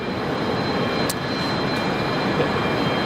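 A Boeing 717 taxiing at Brisbane Airport after landing, heard as a steady, even roar of jet engine noise from a distance, continuous and unbroken throughout, with no voices.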